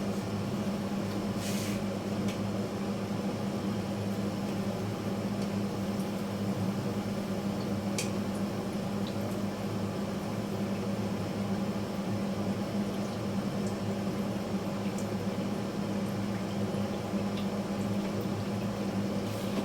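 Teler pitha, sweet fried cakes with black cumin, frying in oil: a low, even bubbling hiss that holds steady and quiet throughout, with an occasional faint tick.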